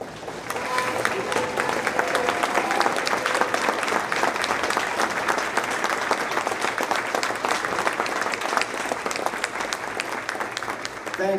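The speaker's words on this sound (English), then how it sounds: "applause." A large audience gives a sustained round of applause for first responders standing at an evening awards ceremony, dense steady clapping that fills the room from start to finish with faint crowd murmur beneath.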